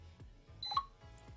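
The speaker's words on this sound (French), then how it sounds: "vous venez d'entendre que le petit bip a bien stipulé qu'on avait bien activé la télécommande avec le petit bot" Small electronic beeps from a SwitchBot smart switch confirming activation, a couple of short, faint tonal bleeps over quiet repeated clicks, with no talk.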